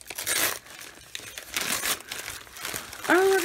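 Packaging from a craft supply haul being torn and crinkled open up close, in bursts of rustling and ripping, with a voice speaking briefly near the end.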